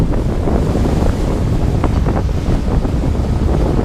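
Strong wind roaring steadily across the microphone while sailing at sea from Pattaya toward Hua Hin and Samui at about 6 knots, with water rushing against the hull, loud and unbroken throughout.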